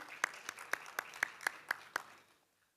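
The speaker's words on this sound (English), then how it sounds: "a nice warm round of applause for them" A small scattering of claps at an award ceremony: about eight sharp, evenly spaced hand claps in a steady rhythm, fairly faint and close, fading out after about two seconds.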